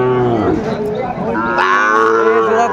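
Cow at a cattle market giving a loud, close, drawn-out moo that rises into a second bellow, with no talking over it.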